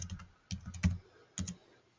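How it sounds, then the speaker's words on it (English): Soft, close clicks from a computer keyboard come in a few short clusters as a word is typed, with quiet gaps between the bursts. "I'm going to type hello."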